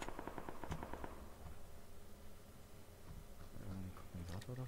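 Rapid bursts of automatic gunfire in the video game PlayerUnknown's Battlegrounds, fairly distant and muffled, with a few quieter pops later and faint voices underneath.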